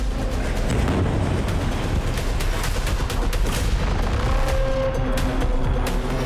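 A deep, sustained explosive rumble from a destructive blast in Iran rolls on continuously, loud and heavy, with crackling bursts scattered through the low roar.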